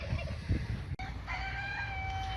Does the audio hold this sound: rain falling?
no